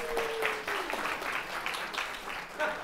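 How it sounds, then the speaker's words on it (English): Students in a Stanford probability lecture hall applaud with scattered, moderate clapping for a few seconds, fairly close, with a brief voice or whistle-like tone early on. "Everybody, round of applause."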